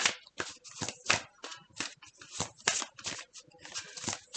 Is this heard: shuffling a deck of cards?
yes